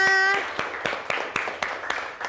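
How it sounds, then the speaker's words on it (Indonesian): A class of students claps hands together in a short run of distinct, roughly even claps, moderately loud in a room, following a brief musical tone. "tepuk tangan dulu semuanya"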